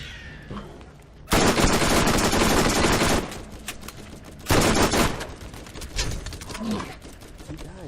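Loud bursts of rapid automatic gunfire from the video game Borderlands, two dense volleys separated by quieter stretches of scattered shots and game effects.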